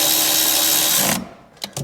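A power drill drives an M6 screw down while mounting a car's accelerator pedal, a loud continuous whir for about a second before cutting off, followed by a couple of short bursts.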